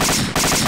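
Rapid automatic gunfire in a video game, a loud continuous burst of shots close up with a brief break midway, no voices.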